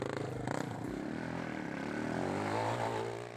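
A quad bike's engine runs close by with a steady buzzing drone, rising slightly in pitch and loudness toward the end as it revs, no voices over it.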